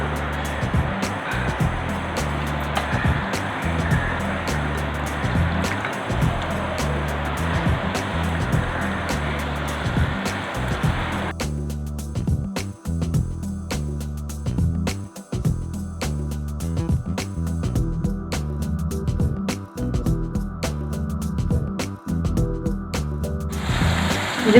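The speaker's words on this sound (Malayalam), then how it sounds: "എണ്ണ ചൂടായി. അപ്പം നമുക്കതിലേക്ക് ചിക്കൻ ഇട്ട് കൊടുക്കാം." Chicken pieces for dragon chicken fry in hot oil, a loud dense continuous crackling sizzle close by that abruptly narrows and settles partway through, with no talk.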